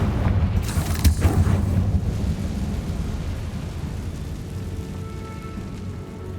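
A Confringo blasting spell explodes in Hogwarts Legacy, a loud rumbling boom that holds dense low-end noise for several seconds and then slowly dies away.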